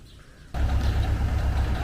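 A tractor engine starts up abruptly after a quiet moment, then holds a steady, close, low rumbling idle.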